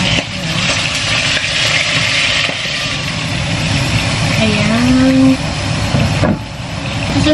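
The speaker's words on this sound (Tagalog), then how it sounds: "Tapos maingay pa itong exhaust fan ko." A noisy kitchen exhaust fan drones steadily under a home cooking session, a constant whir with a brief tonal whine near the middle, while someone talks over it.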